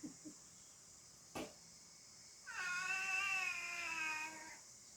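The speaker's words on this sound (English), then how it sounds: "This rooster's tripping out." A rooster crows once in a long drawn-out call with a strained, wavering tone, heard fairly close after a brief sharp knock; no talking occurs during the crow.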